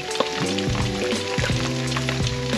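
Loud, continuous sizzling and crackling of salmon frying in hot oil, with a faint tonal hum underneath.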